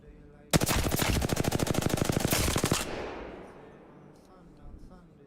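Automatic weapon fire in the Apex Legends video game: a loud, rapid sustained burst of shots for about two seconds, then echoing decay and a faint later sound.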